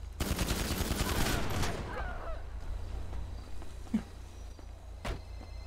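Video game gunfire: a rapid burst of shots at the start, then a couple of isolated single shots further off, fairly faint against a low background hum.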